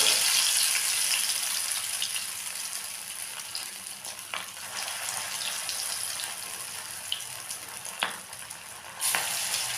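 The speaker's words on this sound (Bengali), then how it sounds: "এরকমভাবে দিয়ে আমি ভেজে তুলব।" Shrimp and red lentil fritters frying in hot oil, a dense, bright sizzle filling the whole stretch with a couple of sharp clinks and a small burst near the end.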